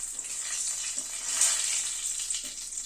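Cinnamon, cardamom, cloves, bay leaves and peppercorns crackle and sizzle in hot oil over a low flame for mutton curry, a steady close frying hiss with occasional pops and a brief stir.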